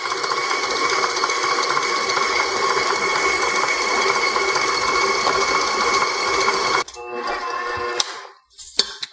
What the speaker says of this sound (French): Puis je vais le fouetter jusqu'à temps que ce soit ferme.